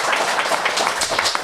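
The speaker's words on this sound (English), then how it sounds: "Everybody give a little warm round of applause for Gabriel" A live game show audience gives a warm round of applause for guest Gabriel: steady, dense clapping that fills the whole moment without pause.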